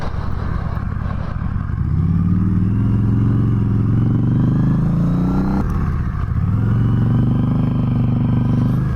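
Harley-Davidson Night Rod Special motorcycle accelerating, a loud close engine roar climbing in pitch through one gear, a brief drop at a shift, then rising again, with no talking.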